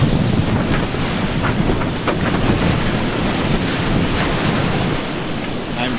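Ocean waves wash and surge around a sailboat racing at sea from Panama toward the Galapagos, with strong wind buffeting the microphone in a loud, continuous roar that swells and eases slightly throughout.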